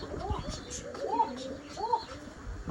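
Pigeons cooing outdoors around a village home, soft repeated low coos under a faint background of voices and children.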